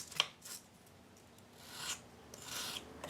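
A ceramic hole cutter edge rubbed against sandpaper, giving quiet rasping strokes: a short sharp scrape, then a few longer soft swishes spaced apart, close and faint with no talk.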